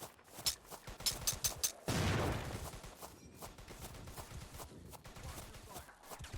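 Gunfire crackles in the World War II shooter game Easy Red 2, with a rapid burst of shots, a louder blast, then scattered fainter shots and clatter at a moderate distance.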